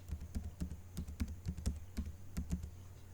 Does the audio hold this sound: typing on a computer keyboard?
yes